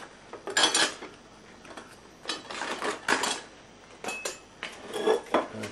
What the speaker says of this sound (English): I've got the Heineken pot inside the cup